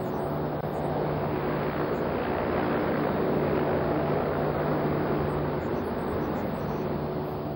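Turbine engine and large propellers of the Convair Pogo vertical take-off aircraft give a loud, steady, continuous roar with an even low hum throughout.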